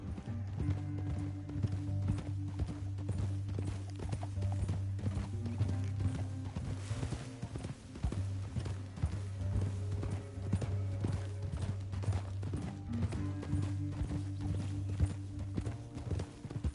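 Rhythmic clip-clop of horse hooves at a steady gallop in the video game Red Dead Redemption 2, continuous throughout, with a brief lull midway and a low droning backdrop.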